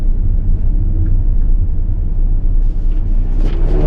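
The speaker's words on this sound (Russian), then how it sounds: "О, смотрите, какая ламба едет." Lamborghini car passing on a road, a loud close low engine rumble that holds steady and then rises slightly with a brief rev near the end, no talking.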